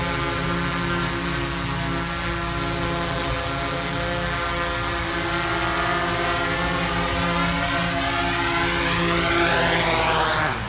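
A DJI Mavic 3 Pro drone hovers and comes in to land, its steady high propeller whine holding constant and loud throughout, with a rising sweep of pitch toward the end.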